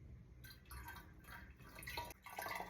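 Water and small fish are poured slowly from a torn bag into a bowl, giving soft, irregular dripping and splashing that stays close and fairly quiet, with a few brighter trickles toward the end.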